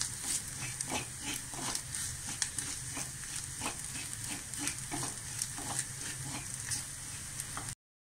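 Bitter gourd fries with coriander and chilli powder for a Kerala-style curry, a continuous close sizzle broken by regular scraping stir strokes throughout, with no talking.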